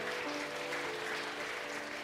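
A church congregation clapping during a Sunday service to bless a newly baptised member: dense, steady applause from many hands, with a faint sustained tone underneath.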